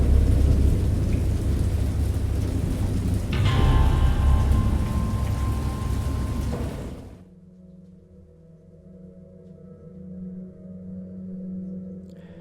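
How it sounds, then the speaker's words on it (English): Heavy rain pours steadily with a distant rumble of thunder in the video game Dagon, then cuts to a quieter, low droning ambience. "I know that I heard peals of thunder and other tones"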